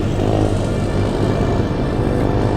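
Dirt bikes rev through the woods in a loud, continuous engine drone that holds steady throughout, with no talking over it.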